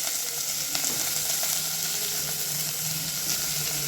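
Chopped green chillies fry in hot oil in a pan for mushroom biryani, giving a dense, even sizzle up close with a few faint stirring taps.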